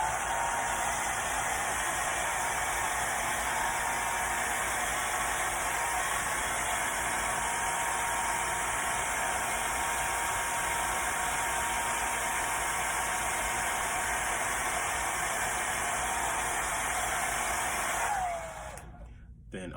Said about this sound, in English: Now I'm gonna use my hair dryer to speed up the process.